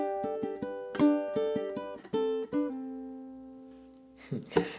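Ukulele picking out the third bar of a cute Disney-inspired tune, a run of plucked notes in a lilting rhythm ending on a held, ringing note, close and clear with no talking.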